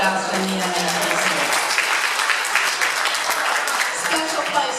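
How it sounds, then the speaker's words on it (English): An audience at a neighborhood association showcase of local non-profits applauds John Faust and the NAPC, a steady, full round of clapping lasting the whole span, with a voice briefly audible at the start. "Let's give a big round of applause to John Faust and the NAPC."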